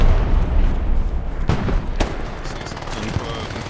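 A couple of sharp gunshot bursts crack through a constant roar of battle noise in the video game Hell Let Loose, with voices talking underneath.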